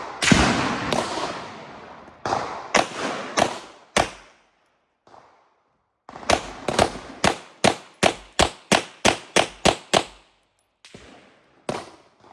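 A Beretta 92XI single-action pistol fires at a shooting range, loud sharp reports in uneven strings and pauses, including a rapid run of about ten evenly spaced shots, each with a short echoing tail.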